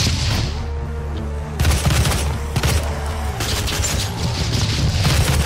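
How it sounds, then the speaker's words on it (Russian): Rocket launcher explosions in the video game Doom, several loud booming blasts in quick succession with crackling debris and rumbling low end, sustained gunfire-like bursts layered over continuous game noise. "Давай ракетами прямо его."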